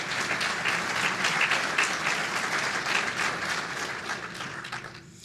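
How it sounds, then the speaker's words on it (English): Sustained applause from an audience at an electric cooperative's annual meeting and member appreciation night, steady dense clapping that fades slightly toward the end. "Y'all please give them a round of applause."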